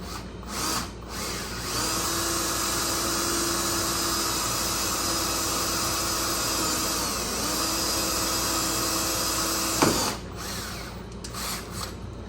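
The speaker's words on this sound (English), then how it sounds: "I'm gonna get drilling this hole" Power drill boring a pilot hole to mount a camera holder on a truck, a steady loud whine holding for about eight seconds after a short start, with a brief pause midway and a clunk as it breaks through.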